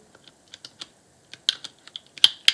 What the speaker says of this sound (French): on coupe l'embout de la cartouche